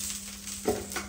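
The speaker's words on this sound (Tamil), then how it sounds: "தோசை வந்து சுட ஸ்டார்ட் பண்ணிடலாம்" Dosa batter thickened with drumstick greens meets a hot pan, giving a brief soft hiss and a small stirring scrape amid a steady low hum, quiet and close.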